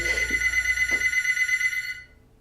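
A mobile phone rings indoors, a loud steady electronic ringtone with a sustained tone and repeating pulses for about two seconds, briefly under a short voice, then cutting off.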